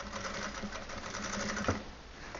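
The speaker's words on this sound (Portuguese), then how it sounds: "Vou fixar uma costurinha de segurança." A sewing machine runs a short securing stitch on stretch denim, a close, steady mechanical whir with fine rapid needle ticks and one sharper clack near the end.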